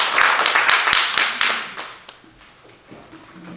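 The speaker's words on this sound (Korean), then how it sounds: "우리 1년 동안 수고하신 한번 박수 한번 해주세요" Audience clapping at a Korean church council's annual general meeting, starting as dense applause and thinning to scattered claps with faint murmuring.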